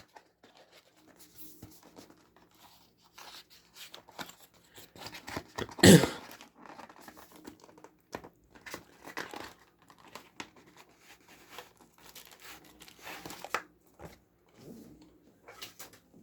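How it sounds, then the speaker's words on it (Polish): Packaging of a Dell DW316 USB DVD drive is opened and unwrapped, giving soft intermittent crinkling, tearing and rustling close by, with one louder rip partway through and quieter handling noises continuing after. "Otwieram opakowanie."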